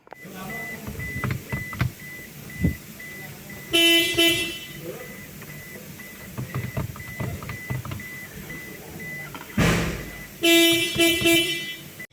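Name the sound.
car horn honking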